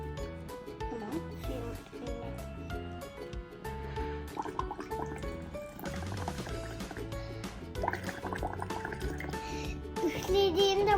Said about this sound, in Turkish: baloncuklar oluşuyor.